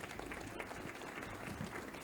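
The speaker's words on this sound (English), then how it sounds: "Can we give Sham Suchak a round of applause, please?" Faint, distant applause from an audience at a Rotary club forum, a soft continuous patter heard at low level throughout.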